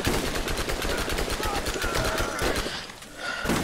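Rapid automatic gunfire from a starter machine gun in the video game Borderlands rattles almost nonstop, loud and close, with a short break near the end before the firing resumes, a voice talking over it.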